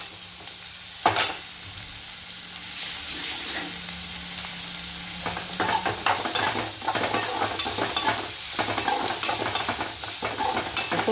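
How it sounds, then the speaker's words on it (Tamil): Onions or similar sautéing in a pan with salt just added, a steady sizzle and frying crackle with scraping stir strokes growing busier partway through, close and continuous with no talking. "உப்பு போட்டு கிண்டி விட்டுட்டு ஒரு 5 நிமிஷம் வெயிட் பண்ணலாம்"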